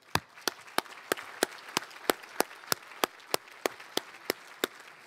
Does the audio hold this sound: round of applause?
yes